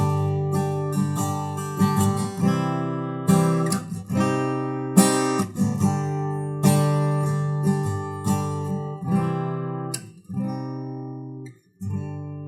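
Guitar strumming a I–IV–iv minor–I chord progression: a series of ringing strummed chords, each struck and left to sustain before the next change, clear and close with no talk.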